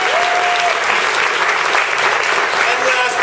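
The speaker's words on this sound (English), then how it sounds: "Let's give him a round of applause." A theatre audience at a season-announcement event claps steadily in a brief, dense burst of applause.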